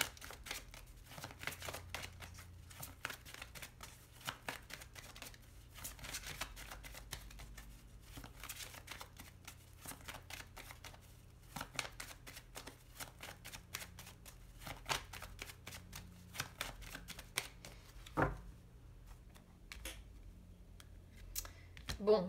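Lenormand cards being cut and shuffled by hand, a steady run of soft papery flicks and riffles throughout, with background voice-like murmur and a louder snap near the end.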